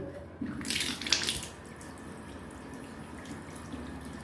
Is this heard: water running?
yes